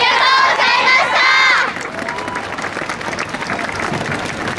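Audience clapping and cheering at a yosakoi dance festival in Soka, starting loud and dense for under two seconds, then easing into lighter scattered applause with crowd murmur.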